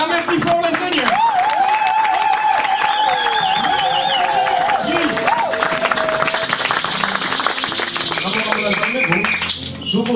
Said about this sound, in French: vous allez acclamer plus fort le Seigneur